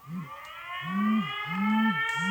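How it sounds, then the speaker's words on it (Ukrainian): An air raid siren alert sounds loud and close, a steady electronic wail that swoops up and down in repeating cycles, each rise and fall lasting well under a second. "Повітряна тривога. Пройдіть найближче укриття."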